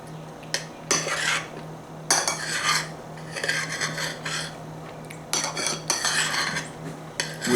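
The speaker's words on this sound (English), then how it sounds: "I'm just pulling it apart with a spoon" A spoon scrapes and clatters against a plate while pulling apart corned beef brisket, in repeated bursts of metallic rubbing and clinks separated by short pauses, close and clear.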